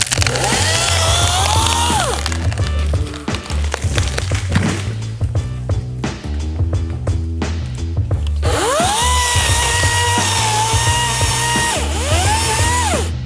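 A loud chainsaw whines close by, its pitch dipping as it bites into wood, then rising again between cuts, with crackling chips throughout.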